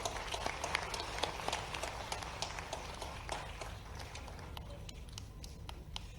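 Audience applause at a government appointment-letter ceremony in Bhopal, scattered light clapping from a crowd spread over several seconds, moderately distant and thinning out toward the end.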